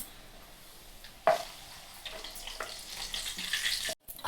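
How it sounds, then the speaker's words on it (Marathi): Kadakani, crisp Dussehra treats, fry in oil on an electric stove with a soft, steady sizzle. Occasional louder crackles and a brief clink break the hiss, and no one speaks. "ह्या ही इलेक्ट्रिकल शेगडी आणि त्या शेगडीवर कडाकण्या तळायला लागलेली आहेत"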